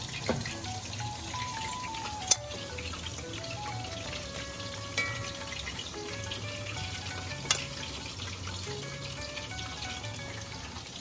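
Sweet wheat fritters (undampori) crackle softly in hot oil as they are lifted out, a low steady bubbling with a few sharp clinks of a ladle against the pan.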